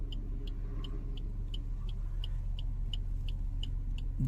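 A car driving along a rain-soaked monsoon road, a steady low engine and tyre rumble close by throughout, with faint regular high ticks over it and no talking.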